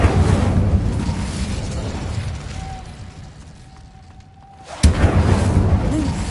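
An Incendio fire spell in Hogwarts Legacy on PS5 bursts with a sudden loud blast near the end, breaking a quieter stretch of low rumble and a thin humming tone, then a fuller roar continues.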